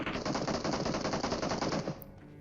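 Continuous automatic gunfire from a shooter video game, a dense rapid burst that runs loud for about two seconds and then cuts off abruptly, with no voices.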